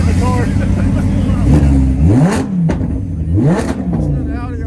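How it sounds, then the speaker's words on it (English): An Audi R8 engine revs at a January car show in Oklahoma City, its pitch climbing and falling in two or three throttle blips close by, with people talking over it. "Audi R8, man. Sounds good."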